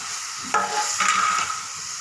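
A ground spice mixture with ginger and tomato fries in a pan, giving a continuous sizzle with stirring scrapes, and two louder surges of hissing as the food is moved.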